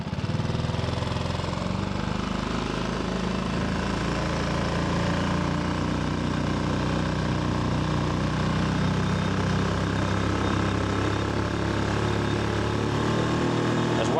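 A Tohatsu 4HP outboard motor runs at wide open throttle on a Pelican Bass Raider boat, a steady, buzzing engine drone close by with a slight chatter, sustained without letup.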